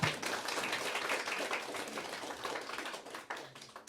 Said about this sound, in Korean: 많은 박수 한번 더 부탁드리겠습니다